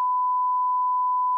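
A single flat electronic censor bleep sounds for just over a second, loud and unwavering, cutting in and out sharply with nothing else audible.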